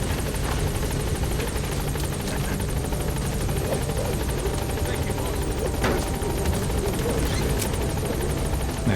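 A helicopter in Metal Gear Solid V arrives at a landing zone, its rotor thumping in a rapid, dense chop over a loud, constant engine roar that fills the whole stretch without pause.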